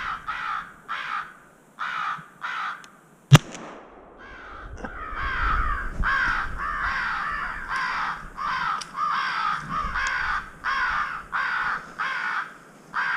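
Crows caw in loud, repeated bursts from an electronic caller during a crow hunt, with a single sharp shot cracking in the middle before the rhythmic calling resumes.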